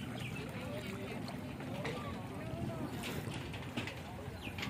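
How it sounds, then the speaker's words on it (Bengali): A boat approaches on a river in Chandpur, its steady low engine drone rumbling continuously, with wind and water noise around it. "ওই আরেকটা নৌকা আসছে।"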